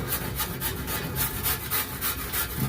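Brush scrubbing a stainless steel heat baffle from a charcoal grill, quick rhythmic raspy strokes repeating about three times a second, close and steady with no talking.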